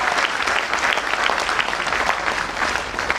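An audience claps steadily and vigorously, a dense continuous patter of many hands that holds a fairly even level throughout with no voices standing out.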